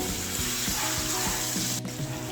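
Steady sizzling and frying of onion and tomato in a hot pan, with faint scraping of stirring at a regular pace, no voices.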